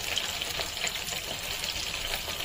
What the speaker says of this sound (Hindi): अब ये हल्की आंच पे हम 3 से 4 मिनट तक इसे हम होने देंगे फ्राई